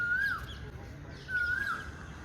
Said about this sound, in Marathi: कोकिळा